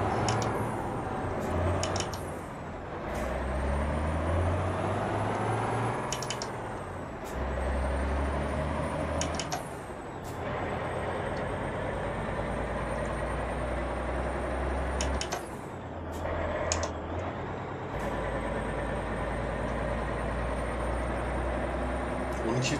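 Mack R truck in Euro Truck Simulator 2, a low diesel engine drone with several sharp hissing air brake releases spread through the stretch, loud and close.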